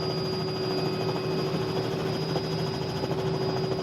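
A Robinson R66 helicopter in Microsoft Flight Simulator, flying over the Philippines, drones with a steady, dense rotor and turbine roar, continuous and unchanging throughout.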